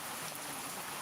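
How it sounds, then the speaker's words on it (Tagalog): Rain falls in the Bicol region in the Philippines, a steady broadband hiss of drops pattering on surfaces, even and continuous, with no voices over it. "It's raining."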